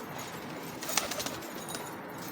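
Pigeons coo and stir with brief wing flaps in a short burst near the middle, over a steady background hiss; no voices.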